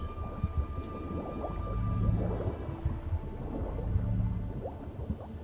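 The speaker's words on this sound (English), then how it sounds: "it's about to rain" Low rumbling thunder rolls under steady rain in The Witcher 3 game world, swelling and fading in long waves across the stretch with no voices.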